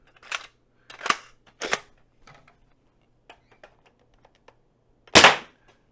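A Dart Zone Stryker 2.0 foam dart blaster fires in sharp, close snaps, three quick shots in a row, then a pause with small clicks before one final loud shot.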